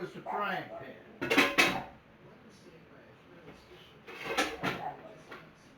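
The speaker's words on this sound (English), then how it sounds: "It was the frying pan." A frying pan clatters in a domestic setting, with two loud metallic bursts of banging and rattling, near and sharp, amid quiet background and a voice speaking before the first burst.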